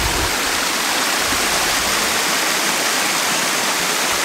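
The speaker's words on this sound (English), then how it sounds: "I hear the sound of a waterfall." A waterfall at a temple in Japan roars steadily and close, a dense unbroken rush of falling water filling the whole clip with no voices.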